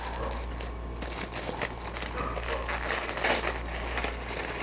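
Aluminum foil is peeled and unwrapped from a homemade onigiri, giving crisp crinkling and crumpling bursts at close range over a low steady hum.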